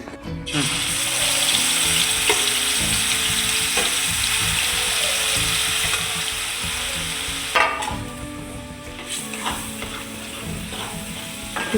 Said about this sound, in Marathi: जे वाटण काढलं होतं ते तळण्यासाठी